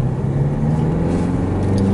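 A Citroen C4 sedan engine pulls hard under acceleration, a steady close mid-range drone with road rumble and no talk over it.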